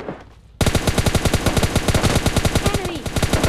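Rapid automatic gunfire in the PUBG Mobile Lite video game, fired at bots, bursts in loud after a brief quiet start and then rattles on in a fast, even string of close shots.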